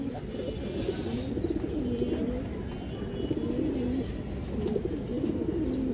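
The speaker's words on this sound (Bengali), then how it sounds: "কাজলা গিয়ারের কবুতরটা মাশাআল্লাহ, খুবই সুন্দর একটা কবুতর" Pigeons at a farm, including a kajla-eyed bird, coo in repeated rolling phrases over a constant background hum, the calls moderately near and steady across the stretch.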